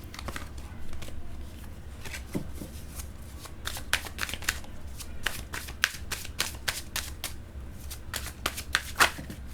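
Tarot cards are shuffled by hand in a quiet room: a steady run of soft riffling and flicking, with sharp card snaps scattered through it. No one speaks.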